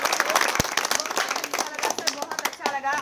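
Audience clapping at a village discussion event in Uttar Pradesh, a burst of scattered hand claps running through the whole moment under a speaking voice, moderately loud and fairly close.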